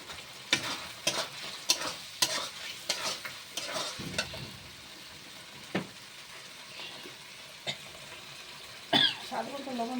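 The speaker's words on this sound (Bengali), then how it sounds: "তো আমি ভেজে রাখা আলু বেগুনটা দিয়ে দিচ্ছি।" Fried potato and eggplant tipped into a pan of simmering spice paste, with soft irregular stirring scrapes and a low sizzle, fairly faint and close, interspersed with a few small clicks and a cough.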